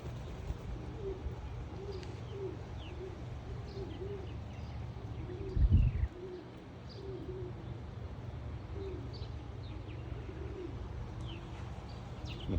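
Racing pigeons cooing in a loft, soft repeated low coos in a steady rhythm with faint chirps from other birds, continuous and moderately close, with one brief louder thump midway.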